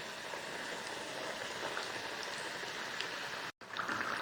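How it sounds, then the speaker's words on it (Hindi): Vegetable samosas deep-frying in oil on a slow flame make a soft, even, rain-like bubbling hiss, faint and steady, broken by a brief dropout near the end. "और इसी तरह हम इसमें बाकी के भी समोसे फ्राई करते हैं।"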